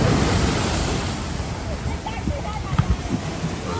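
Storm waves crash continuously onto a coastal shore, a loud, dense roar of surf with wind buffeting the microphone and a few heavier breaks toward the end.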